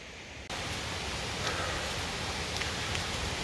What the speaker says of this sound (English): it sounds pretty loud. Coming up to a little waterfall.